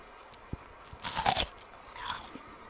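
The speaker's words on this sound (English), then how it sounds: "Do you like the way watermelon sounds? The crunchiness?" Close, crunchy bites into a piece of watermelon followed by a few wet chews, a sharp cluster of crisp crunches in the middle and a softer second crunch after, no talking.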